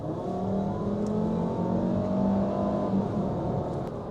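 A 2012 Volkswagen Jetta's 5-cylinder 2.5-liter engine pulls hard under full throttle, its droning tone rising steadily as the car accelerates, heard from inside the cabin.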